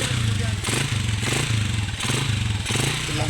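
A motorcycle engine revs near a busy birthday gathering, a loud throbbing drone that swells in regular pulses, with people's voices mixed in underneath.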